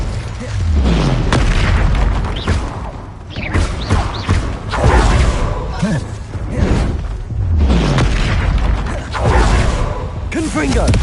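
Repeated spell explosions in Hogwarts Legacy: loud booms and crackling bursts every second or two, with a voice calling out spell names over and between the blasts.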